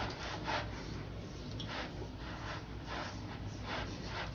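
Vitamin C skincare product being rubbed into skin with upward swipes, soft repeated brushing strokes close to the mic, faint and steady with no talk.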